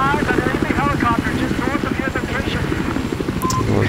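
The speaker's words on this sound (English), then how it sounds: "I've eyes on enemy helicopter" An enemy helicopter in Battlefield 4 on the Golmud map: a loud, continuous, pulsing rotor and engine drone fills the whole stretch, with voices talking over it.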